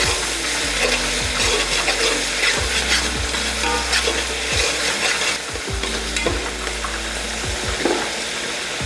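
About 100 grams of ground garlic paste fries in hot oil for mutton pulao, giving a loud, continuous close sizzle punctuated by intermittent stirring knocks against the pan.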